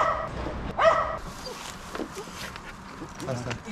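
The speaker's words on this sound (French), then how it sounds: "Allez Baptiste, t'arrêtes d'aboyer." Small dog yipping and barking a few times in short bursts, fairly close, with people talking over it outdoors during magnet fishing.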